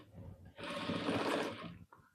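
A sewing machine stitches the shoulder seams of a ladies' coat in one steady run of just over a second, close and moderately loud, starting and stopping cleanly.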